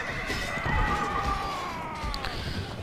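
Horses neigh and whinny amid a medieval cavalry battle in Medieval 2 Total War, a loud drawn-out whinny rising over a dense din of hooves, clashing and crowd noise, with a second shorter cry near the end.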